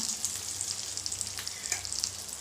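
Stuffed brinjals sizzle and crackle steadily in hot oil in a pan, a close continuous frying hiss dotted with small pops, with no talk.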